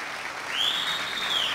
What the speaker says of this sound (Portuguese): eu gostaria que vocês dessem uma salva de palmas para o nosso Alisson Rodrigues